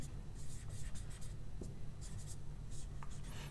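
Pen or marker writing out a bubble sort pass, faint scratchy strokes in short bursts over a low steady room hum, with no one talking.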